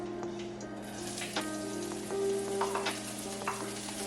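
Vegetables with onion and pepper fry in a pan, giving a steady, quiet sizzle with faint crackles and occasional soft stirring clicks throughout.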